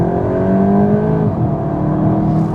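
A 2024 Volkswagen Golf GTI accelerates hard under load, its engine note climbing steadily in a loud, continuous run with a brief dip midway as the revs rise again.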